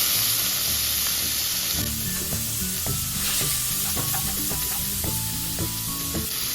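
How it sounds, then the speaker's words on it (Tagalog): Garlic sizzles in hot cooking oil with butter in a pan, a loud, steady, hissing crackle that runs the whole time, with small clicks and scrapes of stirring. "Tapos lalagyan natin siya ng cooking oil. Ngayon pwede natin ilagay yung ating garlic."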